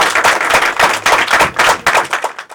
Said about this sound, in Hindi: आए यीशु मसीह के लिए भरपूर ताली बजाएंगे